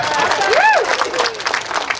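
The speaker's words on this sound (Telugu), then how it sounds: "మీ చప్పట్లన్న మోగాలగా గట్టిగా" Applause and cheering from an audience at a Hyderabad book fair, steady crowd clapping filling the space, with a singer's rising voice cutting through it.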